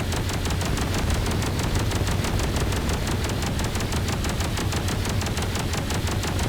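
Cannon turret firing in the Space Engineers video game, a dense continuous barrage of rapid shots running steadily and loudly for the whole stretch with no voices over it.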